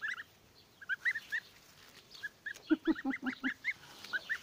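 Goslings honking nearby in a rapid, irregular series of nasal calls, some high and thin, others lower and clustered.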